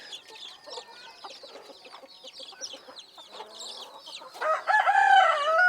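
Hens cluck and chatter nearby, then a rooster crows loudly toward the end, its call rising over the steady clucking.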